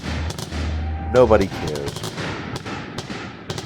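Fireworks going off at night in Pennsylvania: a string of sharp, distant pops and bangs scattered across the clip, with someone speaking briefly over them.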